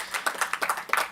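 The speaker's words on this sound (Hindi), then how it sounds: "पहले तो एक बार जोरदार तालियों से आप सुमित जी का सम्मान करें" Seminar audience clapping at a national seminar in a hall, a short burst of several sharp, close claps in an uneven rhythm with no talking over it.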